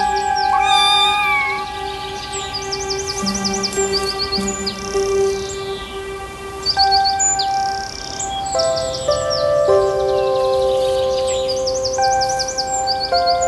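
A hungry kitten and an adult female cat nursing her litter meow repeatedly in a barnyard. The high calls come in several drawn-out cries, and birds chirp and tweet throughout.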